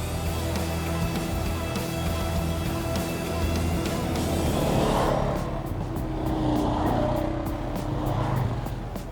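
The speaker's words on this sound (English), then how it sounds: "driving the ATV all over the trail" An ATV driving along a dirt mountain trail in Nevada gives a steady, continuous engine drone with rough broadband rumble throughout, loud and close, shifting slightly in tone as it goes.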